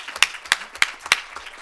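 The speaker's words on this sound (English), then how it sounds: "I want to give our mentors a round of applause." Applause for student mentors at a Futures Summit event comes through as four sharp, evenly spaced claps, close and distinct, with little sound between them.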